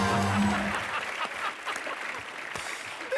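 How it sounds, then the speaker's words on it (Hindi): Studio audience applause at a Hindi comedy talk show, a dense steady wash of clapping that fades slightly toward the end, with a brief musical sting at the start. "ठोको तालियां।"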